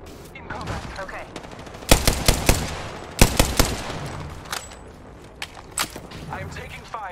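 Gunfire in the video game Apex Legends, heard as several sharp, loud bursts of rapid shots, some clustered and others scattered more faintly, over ongoing game noise and character voices.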